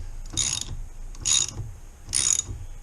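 A puller tool works against a handlebar bolt on a BMW R 1250 RT motorcycle, giving three short, bright mechanical ratcheting bursts spaced about a second apart, close and fairly loud, with no talk.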